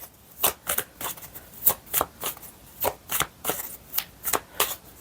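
A tarot card deck is shuffled close up in about a dozen quick, crisp riffling bursts at an even rhythm, with no talk.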